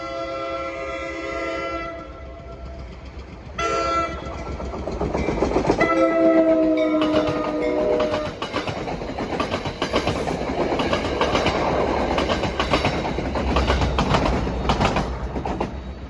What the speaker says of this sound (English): This should be for train 1272 from Waldwick to Hoboken.